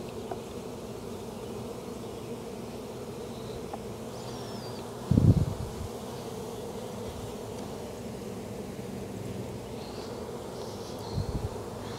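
Honeybees drone steadily and close by during an open hive inspection, a constant low buzz with a single thump of handling partway through and a faint knock near the end.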